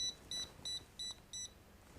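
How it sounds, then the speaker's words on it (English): An MHP 50 mini hot plate sounds its tilt alarm after being tipped up, a quiet, high electronic beep repeating five times in an even rhythm, alone with no talk. "You hear that alarm going off? It's got an accelerometer in it, so it knows if it's been tipped up."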